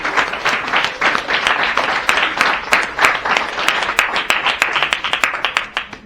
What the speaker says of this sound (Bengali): মহিলাদের জন্য হাততালি দিন